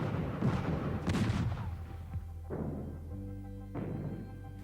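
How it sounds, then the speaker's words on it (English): Civil War cannon fire from the casemate guns of a brick coastal fort, heard as a rumbling series of heavy, overlapping booms that roll and echo at moderate distance, with a lingering low drone between shots. "Confederate shots were fired from the casemate guns. Soon, the upper guns joined in,"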